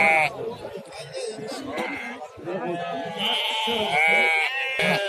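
Lambs bleating at a livestock market, several loud close bleats in a row mixed with crowd noise and people talking nearby.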